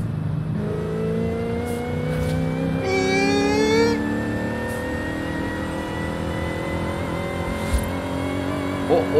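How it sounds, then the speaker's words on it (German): In Forza Horizon 5, a Dodge Coronet Super Bee's rising high-pitched supercharger whine climbs over a steady engine drone as it accelerates, with a brief sharper whistle partway through. "Was ist das für ein Kompressor-Sound"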